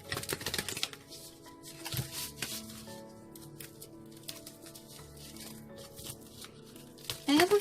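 Crisp papery riffling of tarot cards being shuffled, a few quick bursts with soft slaps, over a bed of gentle background music.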